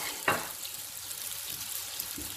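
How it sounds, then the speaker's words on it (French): Brick pastry laid into hot oil gives a brief soft splash, then a steady, even frying hiss that carries on without any voices. "Et on dépose dans l'huile délicatement."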